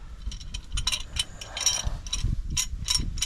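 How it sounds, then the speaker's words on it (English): Brake caliper being compressed on a GM 10 bolt axle, producing close metallic ratcheting and clicking in a steady, busy rhythm over a low mechanical rumble, without speech. "We need to compress the caliper just a little bit to be able to get it off of the rotor."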